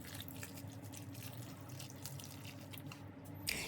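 Chopped broccoli is rinsed in hot water, a faint close trickle and splash running steadily with a brief louder clatter at the end.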